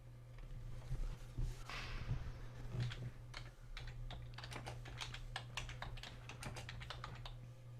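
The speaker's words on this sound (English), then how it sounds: "Typing." Keys clatter on a computer keyboard in irregular bursts, fairly close but quiet, over a steady low electrical hum.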